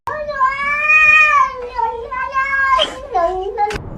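A cat yowls in a long, drawn-out caterwaul that rises and falls in pitch, followed by shorter wavering meows, loud and clear with no talk over it.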